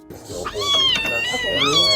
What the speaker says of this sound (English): a tiny kitten was rescued after getting trapped inside a recliner chair